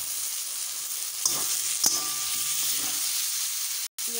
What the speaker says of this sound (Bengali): মশলা সামান্য কষা হয়ে গেলে দিয়ে দেবো সিদ্ধ করে রাখা আলু